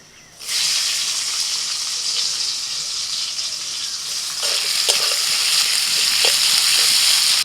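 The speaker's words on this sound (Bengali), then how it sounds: "কড়াইতে আর একটু তেল দিয়ে দিচ্ছি পেঁয়াজ কুচি।" Chopped onion dropped into hot oil in a wok bursts into a loud, steady sizzle that keeps going, with a few light scrapes and clinks of stirring toward the end.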